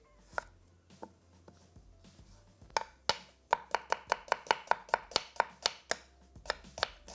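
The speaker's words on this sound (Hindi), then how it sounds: "यहाँ पे 2 अदद दरमियानी प्याज हम बारीक काट लेंगे।" A knife chops two medium onions finely on a cutting board in a home kitchen. It starts with a few scattered cuts, then settles into a fast, steady run of sharp, close taps with no talking.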